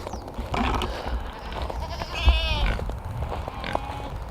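A goat bleats on a farm where pigs are also kept: one clear, wavering bleat from fairly close by, with rustling and other faint farmyard noises around it and no talk.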